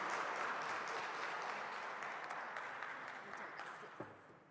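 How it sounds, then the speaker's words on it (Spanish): An audience applauds for Arlet, a panelist at a labor-reform workshop for union leaders: dense, even clapping from a roomful of people that gradually fades out toward the end, with a final stray clap. "un aplauso para Arlet"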